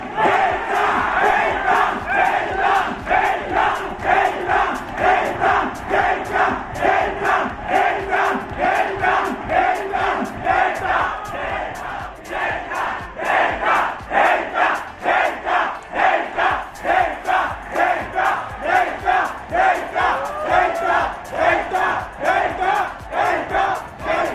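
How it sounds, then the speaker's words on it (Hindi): A large university crowd at Lovely Professional University shouts "Delta" in unison, loud and close, the massed voices repeating in a steady rhythmic chant for the whole stretch. "at the count of 5 we are going to shout delta"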